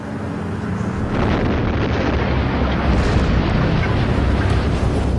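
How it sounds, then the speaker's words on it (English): A massive explosion for explosion welding of metals goes off more than half a mile underground, heard as a loud sustained rumbling blast that builds after a second and roars on without a break. "It's called explosion welding."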